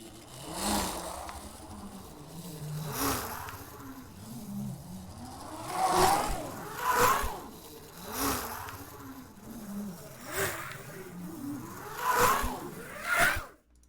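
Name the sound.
layered pitched Lego car pass samples, like a race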